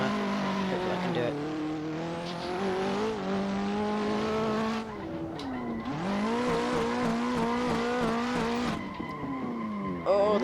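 A drifting car's engine screams and bashes off the rev limiter in third gear, tyres squealing through a corner, loud and close with the pitch rising and falling as revs climb, drop and climb again.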